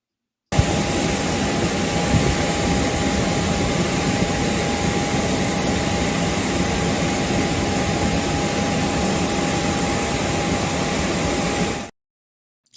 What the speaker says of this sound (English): you see that presidential jet you saw on your screen there